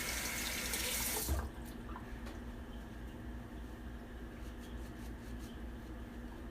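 Water running from a tap during a lathering shave, a loud steady hiss that cuts off abruptly after about a second, leaving a quiet room hum with faint small clicks.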